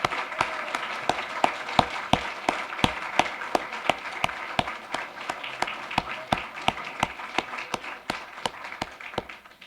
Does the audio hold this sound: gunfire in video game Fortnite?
no